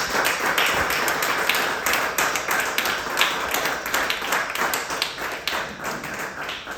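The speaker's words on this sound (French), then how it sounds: "acclame encore pour l'homme de Dieu" A church congregation applauding, dense continuous clapping from many hands in a reverberant hall, steady and fairly loud throughout with no talk over it.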